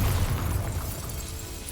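A Bombarda spell blast in a Harry Potter-style magic video game, a deep rumbling explosion that starts heavy and slowly fades into a low rolling tail.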